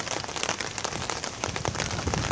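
Light rain falling on a waxed car's body and windshield, a dense steady patter of drops close by with no talking.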